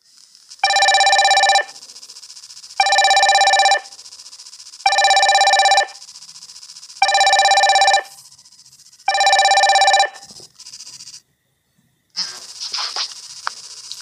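Incoming call ringtone on an Ambrane smartwatch: five loud, bright electronic ring bursts in a steady rhythm with short gaps, followed by faint rustling.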